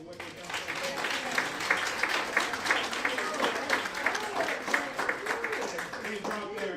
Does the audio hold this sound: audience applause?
yes